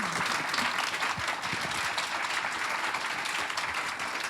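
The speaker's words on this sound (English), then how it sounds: "let's give a round of applause for the panel first" A conference audience applauds a panel on employee ownership, a steady, even wash of many hands clapping that holds throughout at moderate loudness with no speech over it.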